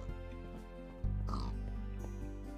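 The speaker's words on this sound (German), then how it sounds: "Da ist ein Schwein." A pig oinks in the Minecraft video game, one clear grunting call standing out over a steady game background with music-like tones.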